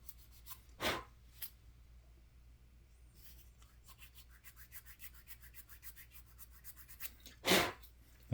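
A sanding stick rubs against the cut-off axles of an Atlantis plastic model kit of a 1957 Cadillac Eldorado Brougham, giving soft rhythmic rasping strokes close to the mic, with two sharp louder bursts at either end.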